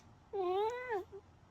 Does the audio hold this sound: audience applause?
no